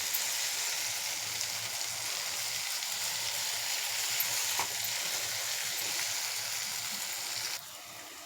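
Egg gravy masala sizzles steadily in hot oil as it is stirred, a close, continuous frying hiss with a few scraping stirs, and the hiss eases slightly near the end.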